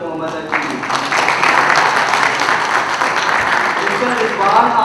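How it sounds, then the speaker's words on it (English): An audience at a company's annual award dinner claps steadily for several seconds after an award is announced, a fairly close, sustained applause that rises slightly partway through. "Clap for Mr. Mohammad Akil."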